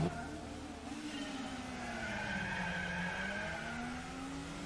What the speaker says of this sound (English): Freaking wheel spin.